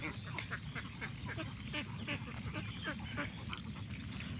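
A flock of farm ducks let loose in an open field, quacking repeatedly in overlapping, fairly faint calls that carry on steadily.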